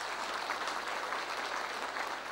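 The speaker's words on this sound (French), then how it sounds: "que nous pouvons applaudir déjà." A ceremony audience gives dense, steady applause in honour of a company group president, with the clapping filling the whole stretch evenly without pause.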